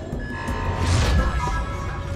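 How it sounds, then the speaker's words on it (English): Heavy gates lower in the Halo Infinite campaign on Legendary difficulty, a mechanical rumble and clank that swells to a broad crash midway and then fades, brief and moderately loud. "Alright, gates are coming down."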